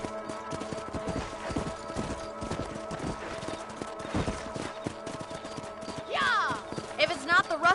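Horse hooves clip-clop in a steady, rapid rhythm through the Red Dead Redemption video game as riders patrol a ranch property, and voices come in toward the end.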